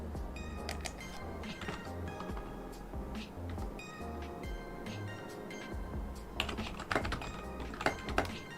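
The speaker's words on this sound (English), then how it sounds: "My loud ass keyboard." Rapid clattering keystrokes on a loud computer keyboard, typed in quick irregular bursts with no talk, growing sharper and more emphatic toward the end.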